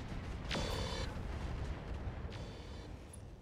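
Heavy weapon fire from a mech in the RogueTech game booms out loud in a single blast, rolling into a rumbling tail before a fainter second burst.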